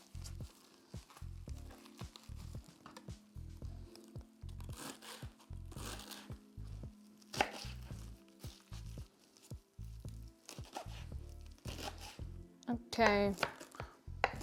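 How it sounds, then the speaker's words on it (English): A small knife chops fresh parsley on a cutting board in rapid, fairly regular thuds close by, with short pauses and some leafy crunching; a voice speaks briefly near the end. "the rest of the parsley you can use, chop it, also in like small pieces"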